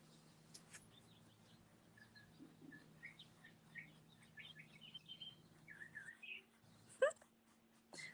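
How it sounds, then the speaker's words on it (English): A small bird sings outside. Its faint chirps and short trills come intermittently through a quiet indoor room with a low steady hum. A soft voice may murmur once or twice, and one sharper sound rises near the end. "There's a little bird outside singing away to itself."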